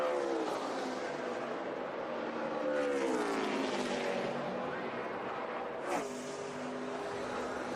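A NASCAR stock car on the final lap of the 2012 Brickyard 400 at Indianapolis, its engine roaring loud and continuous, the pitch rising and falling as it passes, with race commentary over the top.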